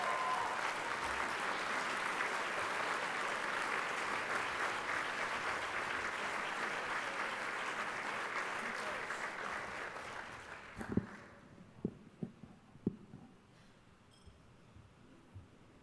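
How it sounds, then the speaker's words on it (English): An audience at a Chamber banquet applauds an award winner, a broad sustained wash of clapping that lasts about ten seconds before trailing off into a few scattered claps and taps in a quieter room. "Another round of applause, please"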